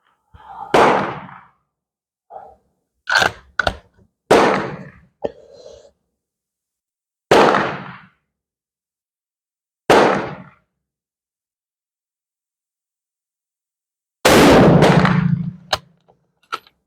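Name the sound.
gunshots firing test loads over a chronograph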